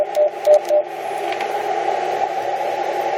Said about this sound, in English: So I'm learning Morse code.